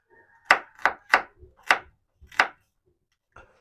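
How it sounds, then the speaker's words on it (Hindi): Five or six sharp knife chops strike a cutting board as 2 to 3 onions are chopped, crisp separate thwacks in an uneven rhythm, close up, then a final softer tap after a pause. "प्याज मैंने चॉप कर लिया है।"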